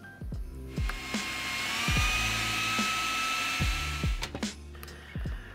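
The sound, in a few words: blender blending maple syrup and soy sauce glaze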